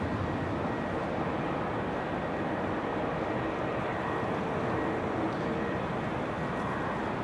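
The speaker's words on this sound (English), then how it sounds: "the narrow bodies that are flying into runway 27" A narrow-body airliner landing on runway 27 at Amsterdam Schiphol on a windy, showery day gives off a steady, broad, unbroken roar that holds level throughout, with no talk over it.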